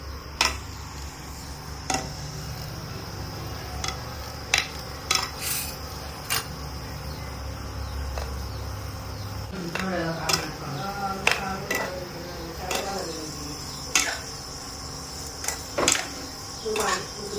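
Chicken liver fry with spices is mixed in a pan, giving repeated sharp metallic clinks and scrapes of a spoon against the pan at irregular intervals, alongside a low frying sizzle, with occasional voices nearby.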